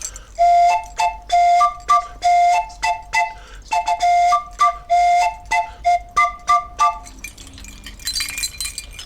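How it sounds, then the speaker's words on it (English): A British train whistle is played like a circus merry-go-round calliope, giving a bouncing tune of short, bright, tonal toots in steady rhythm, loud and close. The melody stops near the end and leaves a brief hiss. "Now, I can also make the train whistle sound like a calliope from the circus merry-go-round."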